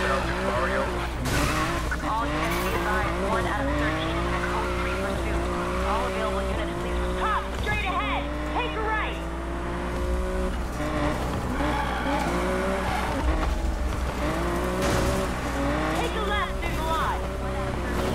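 Tires skid and squeal repeatedly from a racing car in the video game Need for Speed Payback, wavering screeches over a steady engine roar, loud and close, with game music or effects underneath.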